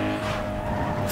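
A car in Need for Speed Underground 2 rolling into a tuning shop, its engine a steady loud rumble with a faint tire squeal, heard close up over about a second.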